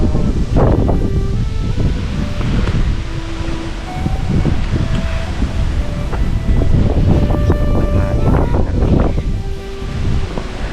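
Steady wind roars across the mic, with a broad rushing noise that swells and eases throughout, and no voices.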